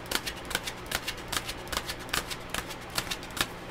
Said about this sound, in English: So just going to shuffle a little bit more.